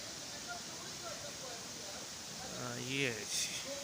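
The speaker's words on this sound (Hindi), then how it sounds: "धानी वाटरफॉल" Dhani Waterfall in Kashmir rushing as a broad, steady roar of falling water, with a faint voice rising briefly near the end.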